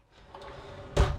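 A solid shower door on a 2025 Flagstaff travel trailer's corner shower swings shut with one firm, close thud at the end of a quiet moment.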